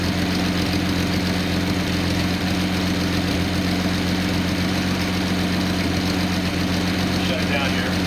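A Nissan 280ZX L28 engine idles on a test stand with a narrow band oxygen sensor hooked up, a steady and loud droning hum with an even low throb that stays constant throughout, no talking.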